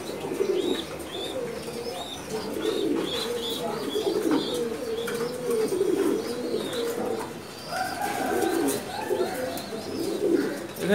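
Giribaz pigeons in a clean breeding loft, a dense chorus of soft overlapping coos running throughout with occasional higher chirps from other birds and faint wing movement, close and continuous.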